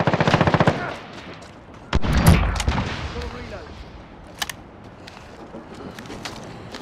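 Automatic gunfire rattles in Call of Duty: Modern Warfare, a loud rapid burst at the start, then heavy shots with a booming blast and scattered further shots fading under game noise.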